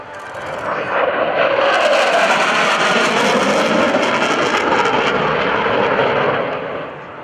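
QF-4 jet aircraft flying at a Navy air station airshow heritage flight: a loud jet roar rising quickly, holding steady as it passes, then fading.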